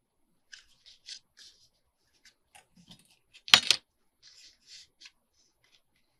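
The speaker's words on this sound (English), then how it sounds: "we're going to do the same thing where we fold it and cut our envelope flap" Scissors snip through a paper journal card to cut a folded envelope flap: a few quiet paper clicks and small snips, then one louder sharp cut near the middle, with no talking.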